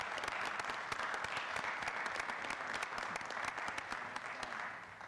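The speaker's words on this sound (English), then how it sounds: "That kind of needs a round of applause" Audience applause at a city council meeting, a steady round of clapping from a room of people that holds even for about five seconds before fading slightly at the end.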